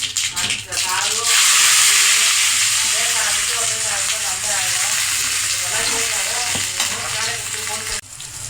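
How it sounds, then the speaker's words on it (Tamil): Mustard seeds and onions frying in oil in a kadai, a loud continuous sizzle with crackling pops and stirring, close and steady throughout. "எண்ணெயில் கடுகு பொரிஞ்ச உடனே நம்ம வெங்காயம் சேர்த்து ஃப்ரை பண்ணிக்கலாம்"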